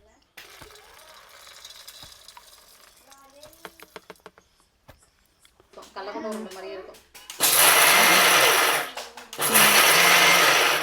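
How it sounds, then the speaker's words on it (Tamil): Mixer grinder grinding peanuts, a loud broadband whirring roar that starts about two-thirds in, cuts briefly and restarts, following quieter kitchen clatter and handling noises. "வேர்க்கடலையை வந்து அரைச்சிக்கிட்டோம்"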